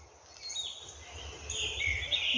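Birds sing faintly in the distance, thin high chirps drifting over a low outdoor rumble.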